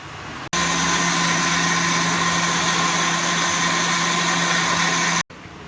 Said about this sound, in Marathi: आता आपण ते वाटून घ्यायचं मिक्सरमध्ये